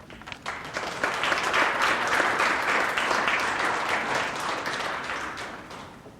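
Audience applause at a university Earth Day essay contest awards ceremony, a dense, steady wash of many hands clapping that swells after a brief start and holds for several seconds before easing slightly.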